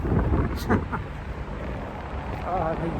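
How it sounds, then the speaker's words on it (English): Strong wind buffets the microphone in a steady low roar, with gusts rising and falling throughout. "this is the wind I was trying to avoid"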